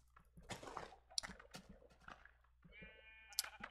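Sheep in a single-player video game let out a couple of short, quiet bleats among soft clicks and chewing-like sounds, ending in a clearer, wavering bleat near the end.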